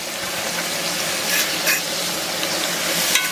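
Garlic and kosher salt being stirred in a hot cast iron pan, a loud continuous sizzle with brief scraping swells as the pan is mixed, no talking.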